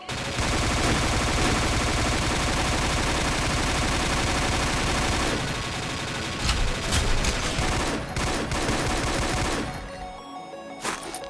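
Sustained video game gunfire from guns under test, dense rapid automatic bursts that run loud and unbroken for several seconds, then thin into scattered shots and trail off near the end.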